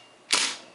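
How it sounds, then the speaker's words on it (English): A WE P38 airsoft pistol fires a single sharp, close crack that snaps out and fades quickly in a quiet room. "It's got a nice hard kick to it actually for a little pistol."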